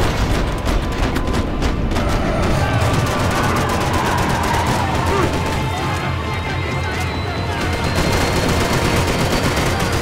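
Gunfire from the video game Max Payne 3, dense, loud and continuous, with rapid bursts and repeated shots filling the whole stretch.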